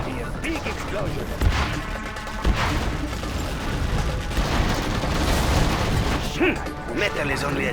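Booms and bursts of battle explosions from the real-time strategy game Command and Conquer Generals Zero Hour, repeated at irregular intervals under game voice lines and dense in-game combat noise.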